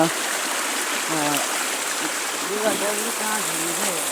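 A village stream in Nepal flows steadily with a broad, constant rush of water, while voices talk over it throughout.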